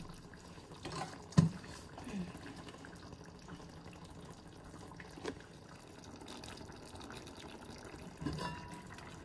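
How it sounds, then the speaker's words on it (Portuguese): A meat stew with penne pasta simmers in a pot, giving a faint, low bubbling with a few soft liquid blips and drips over a quiet background. "Deixa-se ferver mais um minuto para a massinha tomar o sabor da carne."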